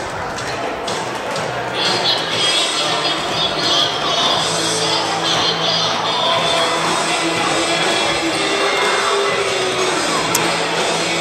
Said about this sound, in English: take crowd noise here